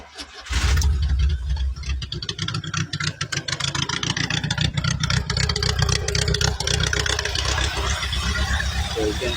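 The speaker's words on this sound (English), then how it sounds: "let me just go and crank up the engine." A 150cc motorbike-carbureted Volkswagen 1800cc engine catches after a brief kick and settles into a loud, rapid, pulsing idle close by.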